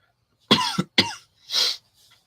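A person who has been sick coughs three times at close range: two sharp, harsh coughs in quick succession, then a softer, breathier one, with a faint throat noise trailing after. No speech.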